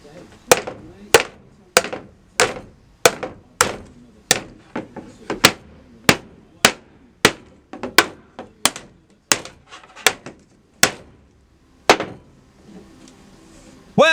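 A hammer repeatedly strikes a strong, durable PVC van and workshop storage holder, delivering about sixteen sharp, loud blows at a steady, unhurried pace before a brief pause.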